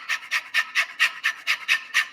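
A man imitates a panting dog, pushing out about nine quick, breathy huffs in an even rapid rhythm, close and fairly loud with no other sound.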